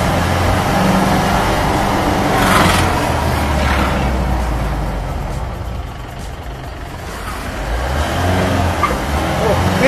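A Mahindra Thar diesel, the original Thar DI, pulls in first gear on a winding road in Kerala, its engine a steady close drone with broadband rush throughout, dipping briefly midway before building again.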